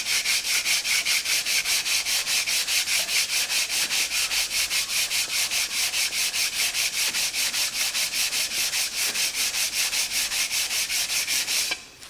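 A metal bar rubbed back and forth across the top surface of a Ferguson TEA20 tractor engine block with a little lubricant on it, making steady rhythmic scraping strokes, close and loud, with no talk.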